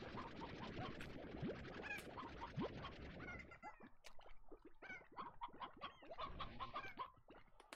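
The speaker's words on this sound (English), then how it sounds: "You're gonna kill my chicken." Chicken clucking inside the farming game Slime Rancher, a busy run of short cackling calls, fairly close and steady, mixed with other game noises.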